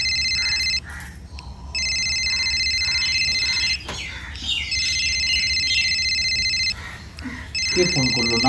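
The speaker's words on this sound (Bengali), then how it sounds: "তোমার ফোন বাজছে" A telephone rings at night in a home, its bright electronic trill repeating in long bursts separated by short gaps, loud and close, with faint background noise and a brief low murmur near the end.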